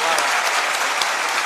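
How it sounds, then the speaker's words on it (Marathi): An audience at a Marathi comedy stage show claps loudly and steadily, a thick wash of applause lasting throughout. "राजेश भाऊ पावड्यांसाठी एकदा जोरदार टाळ्या होत्या"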